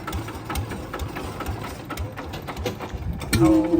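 A small Golden Bow farm engine on a walking-tractor frame runs close by, chugging steadily with rattling, clattering mechanical knocks that grow slightly louder near the end.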